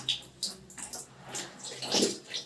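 Water trickling at low pressure from the tap of an electric geyser, a soft uneven splashing with small bursts, close by and fairly quiet, no talk over it.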